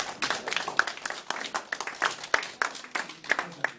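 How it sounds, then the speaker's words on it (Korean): A church congregation claps in encouragement for a pastor, a fairly steady patter of many hands at moderate distance, with some faint voices mixed in. "격려의 박수 부탁합니다"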